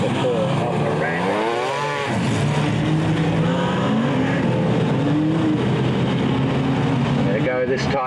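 Modified sedan race cars at Albany Speedway roar down the back straight at night, a loud, continuous engine drone with shifting pitch, heavily overlaid by a race commentator talking throughout.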